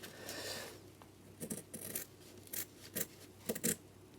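Scissors snip off the corner of material being fitted to a Scott Squirrel saddle, a series of crisp, close cuts in short bursts with rasping blade scrapes between, no talking.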